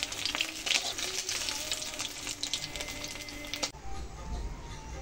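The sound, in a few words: fish frying crisp in oil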